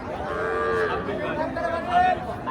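A calf moos at a busy cattle market, a drawn-out, wavering low call heard up close over a dense murmur of crowd chatter and other livestock.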